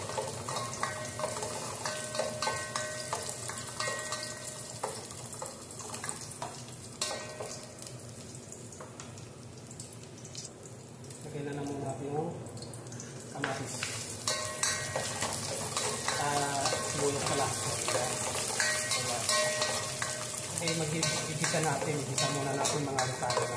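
Garlic, onion and tomato sautéing in a pan, a steady close sizzle with frequent stirring scrapes and clinks of utensil on metal, rising louder in the second half.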